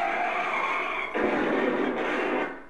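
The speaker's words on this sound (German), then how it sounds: "Dieser Ton ist natürlich gelogen, weil es war ja keiner mehr im Auto drin, der hätte bremsen können." A car skidding to a halt with screeching tires, on a field track during a police stop; a loud continuous screech that shifts to a harsher, broader scrape halfway through, then fades out, with no voices.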